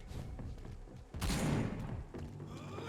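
Enemies firing guns in the video game Vampyr, a loud burst of rapid shots and a booming impact in the middle, fading into quieter background noise.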